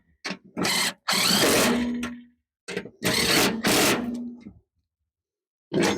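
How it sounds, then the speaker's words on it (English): A 3/8 impact gun runs in several loud bursts, rattling and hammering as it tightens bolts on a Craftsman mower deck, with short silent gaps between the bursts. "So this is just a 3/8 impact gun."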